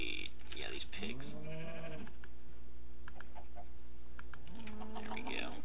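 Pigs in Minecraft, heard as short synthetic animal calls being bred, a few tonal grunting bleats spread across the moment, mixed with keyboard and mouse clicks and a person talking throughout.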